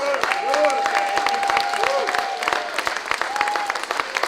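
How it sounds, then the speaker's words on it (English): Audience applause at a Heritage Party conference, sustained clapping from a crowd with scattered individual claps, loud and close, while voices call out and whistle over it. "let's stand up and give him a big round of applause"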